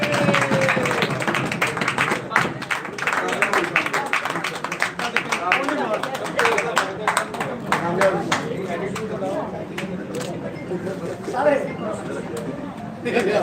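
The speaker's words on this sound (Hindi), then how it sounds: "क्या सर के लिए बहुत सारी तालियां" A room of people at a journalist training workshop in Lahore claps in scattered then fuller applause, with chatter and talking running through and under the clapping.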